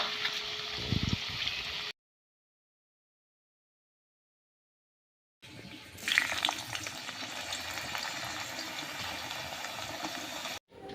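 Raw potato slices frying in oil into homemade chips make a continuous sizzle, cut by a silent gap of a few seconds before the bubbling resumes loudly.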